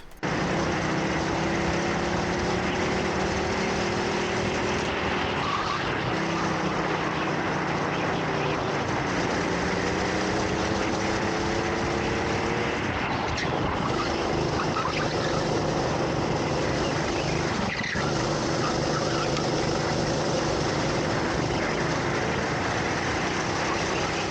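A racing vehicle's engine roars loud and continuous through a fastest qualifying lap at a winter championship round in Herefordshire, its pitch rising and falling with throttle and corners. No one talks.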